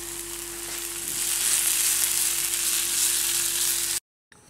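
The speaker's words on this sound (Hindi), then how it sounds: "अब इसमें हम देगी मिर्च डाल देंगे और इसको थोड़ा सा मिक्स करेंगे, स्टर फ्राई करेंगे" Deggi chili stir-frying in hot oil for a dal tadka, a loud, close, continuous sizzle that swells after the first second and holds steady before cutting off abruptly.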